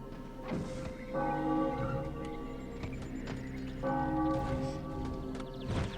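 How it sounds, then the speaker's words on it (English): The guard tower's warning bell in the strategy game Populous: The Beginning rings in two quiet, repeating tolling bursts over low in-game ambience. "listening to that awful sound that is the warning bell of the guard tower"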